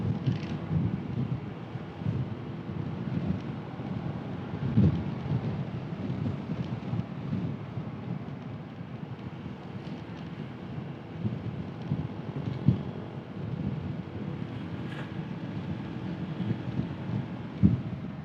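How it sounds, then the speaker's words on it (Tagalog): Wind blows into the microphone outdoors, a steady low rumbling roar with periodic heavier buffeting gusts and a few louder thumps, with no talking. "Naririnig ko na naman yung hangin. Medyo mahangin guys."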